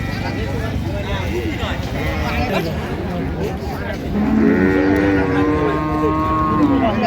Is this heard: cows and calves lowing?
yes